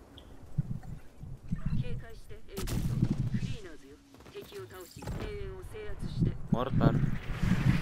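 Mortar fire in the video game The Division, heavy booming blasts and rumbling impacts mixed with other gunfire, with people talking over it throughout.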